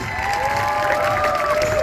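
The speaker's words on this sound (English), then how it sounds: "let's give her another great big round of applause" Aquarium audience applauding and cheering for a performing sea lion, a dense, loud burst of clapping mixed with children's shouts that carries on steadily without a break.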